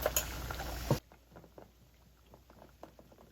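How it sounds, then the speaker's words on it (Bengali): Tomatoes simmer in a little water with a few fenugreek seeds, giving a close, soft bubbling patter after a louder, denser burst in the first second. "টমেটো সিদ্ধ করে নিলাম অল্প একটু পানি"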